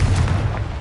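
A Confringo explosion spell goes off in the video game Hogwarts Legacy: a short, loud, deep boom with a heavy low rumble that carries through the whole burst.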